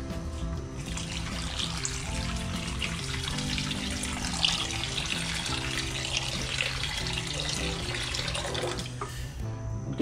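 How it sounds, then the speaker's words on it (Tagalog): Water runs steadily from a tap into a container for a sauce, a continuous splashing stream with soft background music underneath. "lalagyan natin ng tubig"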